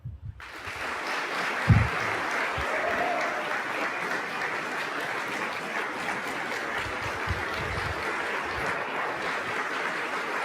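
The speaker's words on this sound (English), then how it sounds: "One more round of applause" Sustained audience applause fills a hall at a city State of the City address in Lee's Summit, Missouri, a dense steady roar of many hands lasting throughout, loud and unbroken with no talk over it.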